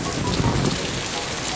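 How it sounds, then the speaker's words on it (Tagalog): Steady rain pours down on surfaces, a dense, even hiss of drops that stays loud throughout the short stretch, with no voices. "umuulan-ulan pa rin"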